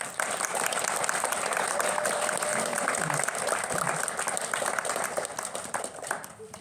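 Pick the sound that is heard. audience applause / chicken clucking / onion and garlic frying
audience applause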